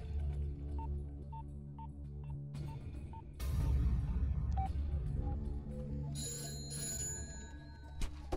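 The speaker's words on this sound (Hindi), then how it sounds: "घंटी बज रही है, कोई फोन नहीं उठा रहा है" A telephone bell rings on and off in steady repeated bursts inside a police office in a Hindi film scene, loud over a low hum, with room noise swelling partway through and no one answering.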